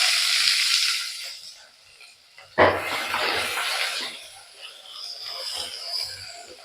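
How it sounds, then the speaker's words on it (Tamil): Sliced small onions sautéing in a hot pan: a soft hiss that suddenly bursts into a loud sizzle, then fades to a gentle, steady frying close by. "இதை நல்லா வதக்கி விட்டுக்கோங்க"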